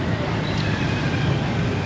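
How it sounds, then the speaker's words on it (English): Busy Manila street traffic rumbles steadily and close, a dense broadband roar of engines and road noise with no pauses. "I don't know if you can even hear me over the infamous Manila traffic right here"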